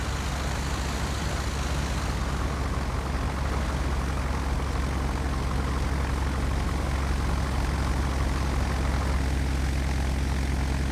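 A Douglas DC-3 propeller airliner taxiing in Flight Simulator X, its piston engines droning at a steady low throb for the whole stretch, loud and unchanging with no voices.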